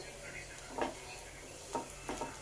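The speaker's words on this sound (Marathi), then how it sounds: "त्याला फक्त कांद्यामध्ये थोडंसं फ्राय करेल" Roasted besan frying with onion in a pan, a faint steady sizzle with a few soft scraping stir strokes and light clinks spaced across the moment.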